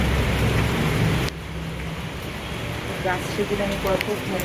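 Steady rain falling outside a house during heavy wet-season weather, a dense continuous hiss that drops slightly after the first second while people talk nearby.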